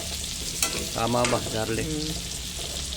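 Food sautéing in a pan for Hawaiian pochero, a steady close sizzle with a voice speaking over it.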